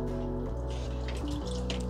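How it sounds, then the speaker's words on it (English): Water from a watering can poured around a houseplant pot, a soft continuous trickle and patter with faint drips, fairly quiet and steady, with no talking. "just kind of go around the pot and just give it some water"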